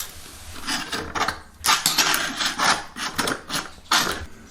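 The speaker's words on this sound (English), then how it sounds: "we just use screwdrivers and they work just fine for us the day after, just kind of chipping away at it" Screwdrivers chip and scrape squeezed-up mortar out of the grout lines between newly laid tiles, giving a run of irregular scratchy scraping strokes with sharper bursts, fairly close and loud, with no voices.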